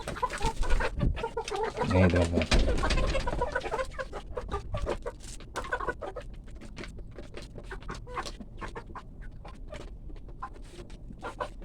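A flock of three-month-old chickens clucks and chatters up close while feeding aggressively, with pecking taps and rustling throughout and a brief spoken phrase near the start.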